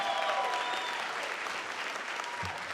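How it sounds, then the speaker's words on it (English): A town hall crowd of about 1,300 people applauds in a full, even roar of clapping that holds steady from start to finish. "Give yourselves a round of applause."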